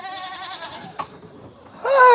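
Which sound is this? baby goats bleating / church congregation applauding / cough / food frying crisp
baby goats bleating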